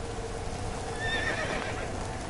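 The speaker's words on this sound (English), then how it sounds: "Speaking of horses. That's it, Roach" A horse in the video game Witcher 3 gives a faint, brief whinny over a steady game ambience, with soft hoof clip-clop mixed in.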